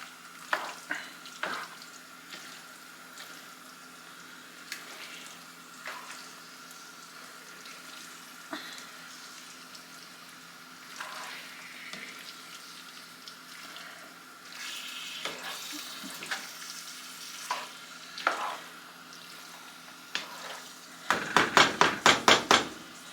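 Cabbage sweating in a hot pan for dog food, a low steady sizzle with scattered stirring clicks and scrapes, ending in a run of louder rapid clatters.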